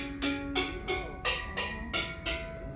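Steel drum notes struck with the bare, unpadded end of the stick, six bright metallic strikes spaced evenly with ringing overtones, moderately loud and alone.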